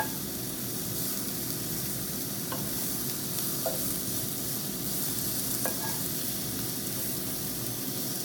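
Beef stroganoff ingredients sizzle and fry steadily in a pan, a continuous close crackle broken by a few light scrapes and taps of stirring, with no one talking.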